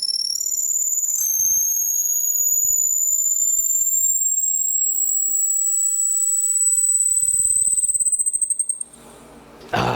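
Drill bit boring through a wooden laser-cut Christmas ornament, giving a thin high-pitched screech that holds steady and slowly climbs for several seconds before cutting off, with no talking.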